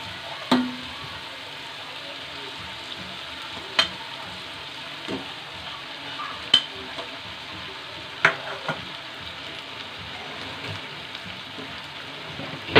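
Vegetables and noodles stir-frying in a pan for Hakka noodles, a steady close sizzle throughout with occasional sharp clicks and knocks of a utensil against the pan.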